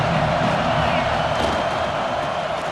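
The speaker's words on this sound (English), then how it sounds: "This crowd bringing the energy and noise early" A stadium crowd in the college football video game EA Sports College Football 26 roars in a dense, constant wash of cheering noise, with a commentator's voice talking over it.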